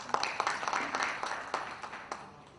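Applause from the audience at an IT industry conference session in Bihar: a dense wash of many hands clapping at moderate distance. It rises at the start and slowly thins out, with a few sharper claps standing out near the end.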